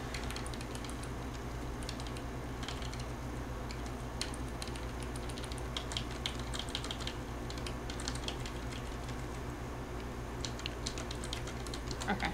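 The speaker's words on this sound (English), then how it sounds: "hitting the keys so much, so quickly, starts to hurt my knuckles after a while" Rapid, continuous typing on a computer keyboard during a Brogue game session, with dense, steady clicking and key taps throughout and no pauses.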